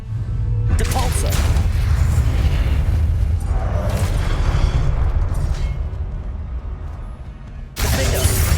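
Spell impacts from the Depulso force spell in the Hogwarts Legacy video game: dense booming blasts and bursts run continuously over a loud rumbling game soundtrack, ending in a sharp fresh burst near the close.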